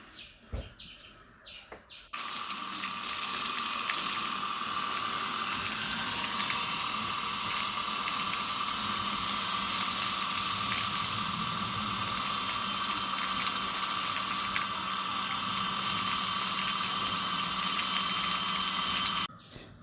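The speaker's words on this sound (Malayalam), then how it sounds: "നമുക്കൊന്ന് വെള്ളം അടിച്ചൊന്ന് നന്നായി കുളിപ്പിച്ച് ശരീരമൊക്കെ ഒന്ന് തണുപ്പിച്ചിട്ട്" Water sprays in a loud, continuous hiss onto a buffalo being bathed, starting abruptly after a short quiet moment, with faint bird chirps around.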